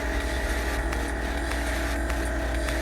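A Haas CNC mill makes a finishing cut as a steady, loud, continuous machining whine and hum. Faint periodic clicks run through it.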